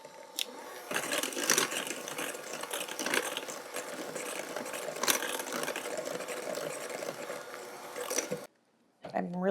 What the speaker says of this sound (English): I'm gonna get this mixed together with the new hand mixer.